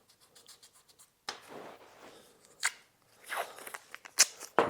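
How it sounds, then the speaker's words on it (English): Tape being pulled and pressed down along the edge of a frame, a sharp rip followed by crinkling, rubbing and scratchy bursts, close and moderately loud, with a sudden tearing sound at the end. "Tape that down. And I'm taping this edge."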